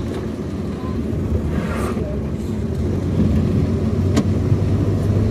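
Steady engine and road rumble from a car climbing a mountain road near Murree and Nathiagali, a continuous low drone heard from inside the vehicle, with faint voices underneath.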